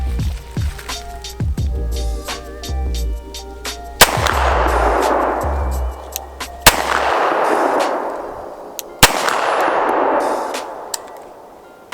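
Archon Type-B handgun shots fired at a range at long distance, with three or four sharp, loud reports spaced a few seconds apart, each trailing off in a long echo, and some earlier clanks and quieter sounds in between.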